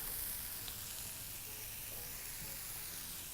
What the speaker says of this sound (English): And proceed to fry in the garlic